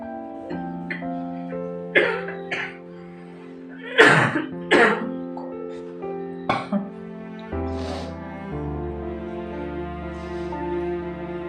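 Several harsh coughs from an ill older woman burst out in uneven clusters over a sustained musical drone, with one louder fit in the middle and quieter ones later.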